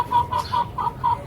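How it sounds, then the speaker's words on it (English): Chickens cluck nearby in a quick series of about five short, rhythmic clucks over a low background hum, with no talking. "You can see that the chickens are a lot noisier than the muscovies."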